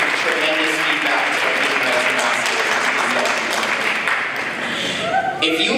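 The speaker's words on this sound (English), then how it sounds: "please wave your hands so we can also give you a round of applause" A crowd applauds continuously, a dense, steady wash of clapping that holds at full strength for several seconds.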